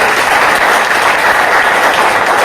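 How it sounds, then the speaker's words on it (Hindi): Loud, steady applause fills the room as an audience claps for the IMC organization, a dense continuous wash of hands with no talking over it. "मैं चाहता हूँ एक बार हमारे संस्था IMC के लिए जोरदार तालियां होनी चाहिए।"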